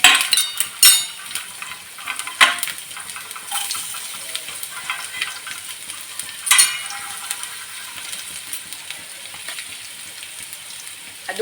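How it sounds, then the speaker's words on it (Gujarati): Asafoetida and garlic sizzle as they go into hot oil for tempering, a steady close crackle broken by sharp clinks of a spoon or utensil against the pan, with no talking. "તો જો આપણું તેલ ગરમ આવી ગયું છે, અને આપણે વઘારમાં છે ને પહેલાં તો હિંગ એડ કરી દઈશું"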